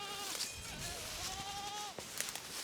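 Sheep bleat several times out on a farm, with long wavering cries rising over a steady outdoor background and one more call near the end.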